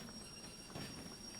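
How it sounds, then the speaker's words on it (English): A train rolls on rails in the railway simulator Derail Valley, being pushed from the rear toward a caboose, a brief low rumble of wheels with a faint high squeal, moderately distant. "I guess I could just push the whole train from the back."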